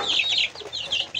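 A speckled Sussex hen clucks and squawks in agitated bursts while being caught, close to the listener, with short pauses between calls and no talking.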